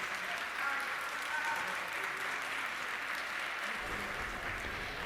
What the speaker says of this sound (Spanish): El aplauso por ese respaldo en el Pleno de la Asamblea Nacional